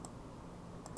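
A few quiet, crisp computer mouse clicks, one at the start and a quick pair near the end, made while working in AutoCAD, with no talking.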